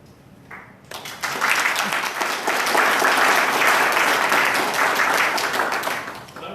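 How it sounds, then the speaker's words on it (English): Sustained audience applause at a state military transition council's quarterly meeting, starting after a brief quiet moment and holding as a dense, steady wash of many hands for several seconds before easing slightly. "You set the conditions with some applause"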